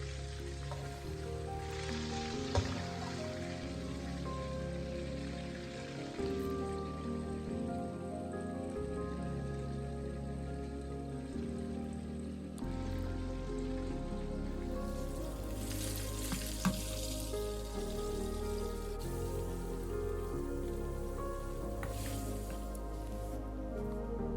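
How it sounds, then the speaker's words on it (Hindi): Chicken for Shinwari karahi fries in a karahi while a spoon stirs it, giving a loud, steady sizzle and crackle that runs throughout without any talk. "चिकन जो है वो साथ साथ हम फ्राई करेंगे और चमचा चलाते रहेंगे साथ साथ"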